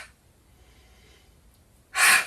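A single forceful exhale through the open mouth during gentle floor yoga breathing, a loud breathy burst near the end after quiet, faint breath sounds.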